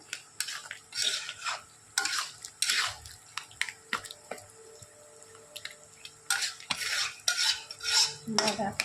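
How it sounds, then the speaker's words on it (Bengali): Potatoes being mashed and stirred in a pan for white aloo posto, with repeated scraping, clinking spoon strokes and soft wet squelches in irregular bursts and a quieter pause midway. "আলুগুলো একদমই এরকমভাবে ঘেটে ঘেটে দেব"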